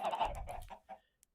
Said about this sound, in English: it's a vanilla Minecraft church filled with chickens covered in hay bales.